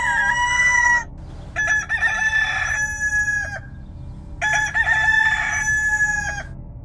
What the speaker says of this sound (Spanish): cantó fuertemente un gallo en medio de la más cerrada oscuridad